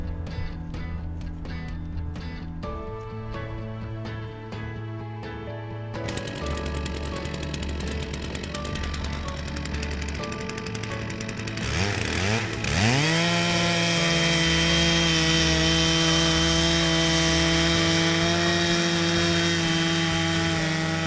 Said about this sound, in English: Keep an even pressure on the chainsaw handle in order to make a straight and fine cut.